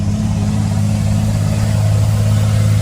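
A Ford Cargo dump truck in a city center roars loudly up close, its engine a deep, steady rumble with strong low throbbing harmonics that hold constant for the whole stretch, with no talk over it.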